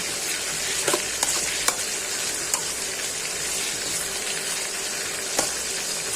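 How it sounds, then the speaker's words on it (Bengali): Onion, cinnamon and bay leaf fry in hot oil for a country chicken curry, giving a steady close sizzle with occasional sharp pops and clinks of stirring, and no voices. "দারচিনি, তেজপাতা এবং গরম তেলে পেঁয়াজ দিয়ে নেড়ে চেড়ে নিচ্ছি।"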